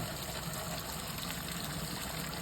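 Water gushing steadily from a farm borewell after rain, a continuous close, even rush of flowing water with no voices.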